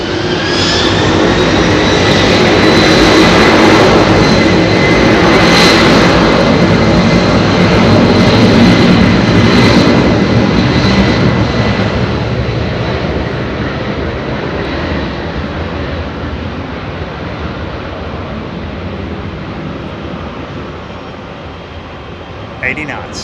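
A Boeing 767 at Heathrow roars loud and close on its takeoff roll, a steady jet rumble that slowly fades as it pulls away, with a voice talking over it.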